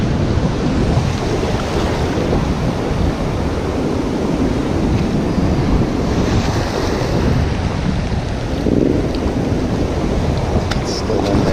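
Ocean waves wash steadily onto a sandy beach in a dense, loud roar of surf mixed with wind buffeting the microphone, a continuous wash with no clear pauses between breakers.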